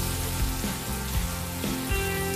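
Minced garlic frying with sautéed onion in a pan for Filipino igado, a steady close sizzle running without pause and broken by a few soft stirring scrapes, with no voices.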